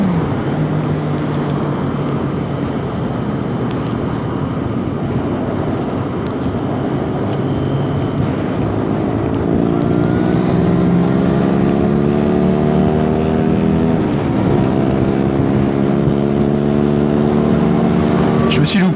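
A motorcycle engine revs and climbs in pitch as it rides along the coast, with an accidental downshift partway through and a loud wind rumble throughout.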